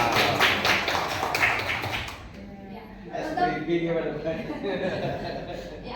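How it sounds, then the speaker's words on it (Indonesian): Audience applause for a mentor at a provincial government orientation seminar for PPPK civil servants in Central Java: about two seconds of steady clapping that gives way to a voice speaking. "Tepuk tangan."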